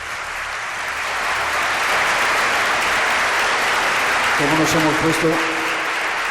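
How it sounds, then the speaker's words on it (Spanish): Audience applause at a Spanish-language talk on life after death, sustained dense clapping filling the room, with a voice speaking briefly near the end. "Os pido un aplauso para él."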